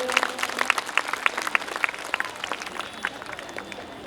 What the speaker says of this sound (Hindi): एक बार मैं चाहता हूं कि मेरे साथी हमारे मंडल अध्यक्ष जी के लिए एक बार तालियां बजाइए जी।